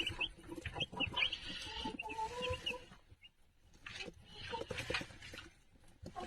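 Day-old Cobb 500 broiler chicks in a brooder give many high, rapid peeps that overlap in busy bursts, with a short lull midway before the chorus picks up again.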